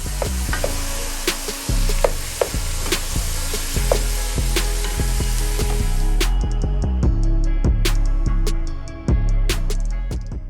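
Ground beef and sausage sizzle steadily in a hot pan as a utensil stirs and scrapes through the browning meat in quick repeated strokes, loud and close, with no talking.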